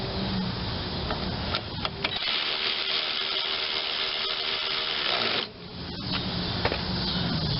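Bolts being power-driven into a Toro 22-inch Recycler self-propelled lawn mower, a steady loud mechanical whir with brief ratcheting clicks and a short pause near the end.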